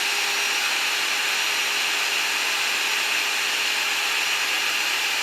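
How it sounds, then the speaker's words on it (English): A drill bores holes through the steel frame of a 1978 Kenworth truck, a loud, constant high-pitched whine that runs unbroken the whole time, close to the microphone with no talking. "we're gonna drill these 2 holes out right off the bat"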